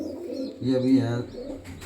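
A breeder's pigeon gives one low, throaty coo lasting under a second, close by, with a man's brief speech around it.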